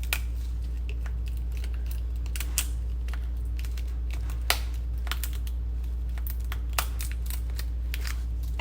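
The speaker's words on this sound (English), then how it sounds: "You're going to take your shears and you're going to cut your back, your top" Kitchen shears snip through a lobster tail's top shell in a string of sharp, separate clicks and crunches, close-up and dry, spaced irregularly over a low steady hum.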